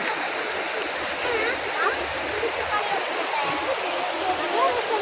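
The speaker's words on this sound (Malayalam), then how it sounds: "ഇത് കുറുമാലിപ്പുഴയാട്ടോ. ഈ പുഴ ചെന്ന് സംഗമിക്കുന്നത് ചാലക്കുടി പുഴയിലാണ് കേട്ടോ." Water of the Kurumali river in Kerala rushes steadily near a dam, a dense, continuous roar of flow and splashing that holds an even level throughout.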